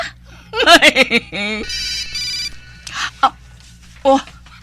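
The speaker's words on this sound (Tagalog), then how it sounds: "Nagring naman ang cellphone ko." A mobile phone rings with a bright, repeating tone that stands out clearly above a dull background, while voices talk loudly over it in short, animated bursts.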